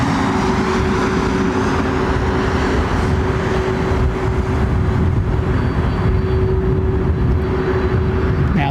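Singapore Airlines jet airliner engines idling at London Heathrow, a steady loud roar with a low constant whine, unbroken and close throughout.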